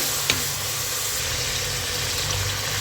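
Masala frying in a pan with a little water added, giving a steady, close sizzling hiss that runs unbroken, with one faint stirring tap near the start.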